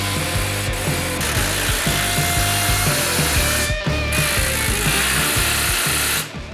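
A power tool drives the factory hardware of a Can-Am X3 rear sway bar link tight. It is a steady, loud, close whirring that runs on almost without a break and then stops near the end.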